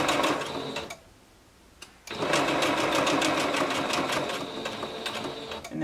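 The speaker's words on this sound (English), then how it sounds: "Make sure you back stitch, and then you're just going to sew along that edge." A sewing machine runs a steady stitch along an elastic edge of a bodysuit, its fast, even needle chatter loud and close, pausing briefly for about a second before resuming.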